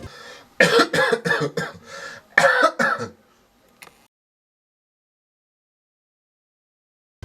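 A person with a two-day cough gives a short burst of coughing and throat clearing, close by, with several rough bursts in a row, then a pause and a faint final cough before silence.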